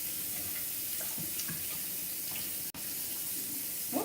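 Running water from a kitchen tap splashes over a spoon being rinsed at the sink, a steady close hiss with brief clinks, a short drop-out partway through.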